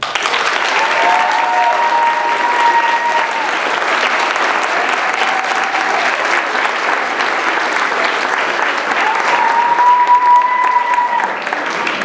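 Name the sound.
audience applause for debate judges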